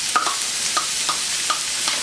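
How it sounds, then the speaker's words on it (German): Garlic clove and onion fry in a pan on a steady bright sizzle, with soft stirring scrapes at regular intervals. "In der Zwischenzeit kann ich mir schon mal die Knoblauchzehe und die Zwiebel anbraten"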